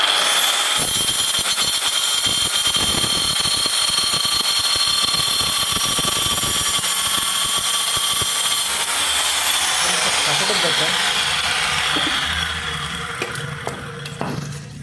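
A tile cutting machine slices pillar tile pieces, a loud, continuous high whine and grinding rasp that holds steady for most of the span before tapering off near the end, with a voice speaking faintly underneath.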